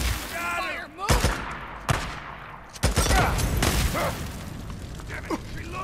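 Rapid gunfire and sharp shot bursts from the Days Gone video game, loud and close, spaced through the clip with mechanical clatter between them and no voices over them.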